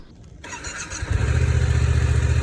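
A Yamaha FZ07/MT07 motorcycle engine catches after a brief quiet moment and settles into a loud, steady, throbbing idle close by, with no voices.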